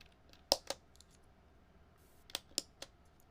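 A handful of sharp key clicks on a new computer keyboard, sparse and irregular, in two short bursts, close and fairly faint against a quiet room.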